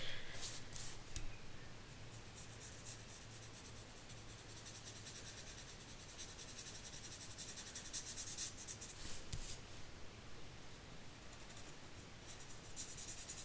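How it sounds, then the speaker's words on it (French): Red marker coloring in a heart on paper, a soft continuous close scratchy rubbing with faint strokes throughout, quiet and alone with no talking. "On va venir colorier déjà le cœur en rouge"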